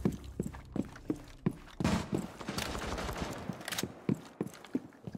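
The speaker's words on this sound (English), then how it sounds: "Where am I getting shot from?" Video game gunfire in a tactical shooter: a dense burst of rapid shots over about two seconds, framed by sharp regular footfall-like thumps before and after, close and loud with no talk.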